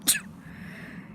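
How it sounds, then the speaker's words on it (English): A person gives a single sharp sneeze right at the start, loud and close, followed by quiet room tone. "I'm gonna sneeze probably."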